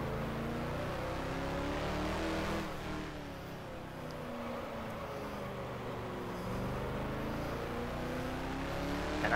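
A Lola T70 race car engine at the Solitude circuit in the rFactor simulator: a steady, droning motor note rising and falling through gear changes, continuous and fairly loud, with no talking over it.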